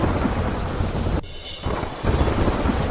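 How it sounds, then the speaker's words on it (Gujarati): Heavy downpour in Delhi roars continuously with low thunder rumbling beneath it, the rain dipping briefly mid-clip before surging back loud, with no speech. "દિલ્હીમાં ધોધમાર વરસાદ થતાં અનેક વિસ્તારોમાં પાણી ભરાયા."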